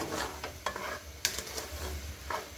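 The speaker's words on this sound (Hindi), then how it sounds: "तो शुगर ऐड करके हम इसको मिक्स करते हैं" Sugar being stirred into carrot halwa in a pan, with a few soft scrapes and clicks of a spoon against the pan over a faint low sizzle, close and quiet.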